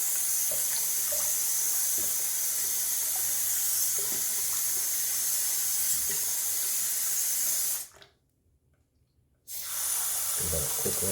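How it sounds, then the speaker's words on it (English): Cold water runs steadily from a bathroom tap for a rinse after a shave with a Rockwell 6C razor, a close continuous splashing hiss that cuts off abruptly for a moment and then resumes. "Do a cold water rinse."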